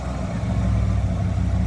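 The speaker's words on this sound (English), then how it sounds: "This 64 Ford F100 custom cab sounds nice, doesn't it?" A 1964 Ford F100 Custom Cab pickup at a Boxing Day classic car club meet, its engine running at a steady idle, close and continuous with a deep low rumble.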